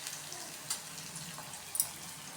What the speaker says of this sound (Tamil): இப்போ பாருங்கள், நம்ம அந்த வெங்காயத்தை நல்லா வதக்கிக்கலாம்.